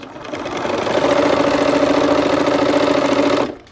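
A sewing machine stitching quilt block pieces into units: the motor ramps up, then runs a loud, steady, rapid whirring hum for a few seconds before stopping abruptly, close up with no talking.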